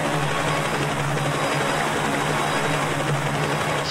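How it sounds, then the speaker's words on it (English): A helicopter approaches in the video game Payday 2, Big Oil heist, as a steady loud rotor and engine drone that holds without a break and has no voices over it. "we're waiting for the helicopter to come in"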